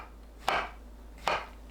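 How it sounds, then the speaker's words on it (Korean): Two crisp knife strokes through shiitake mushroom caps on a cutting board, dicing them into 1 cm pieces, spaced under a second apart and heard close in quiet surroundings. "갓은 가로 세로 1cm 크기로 썰어주세요."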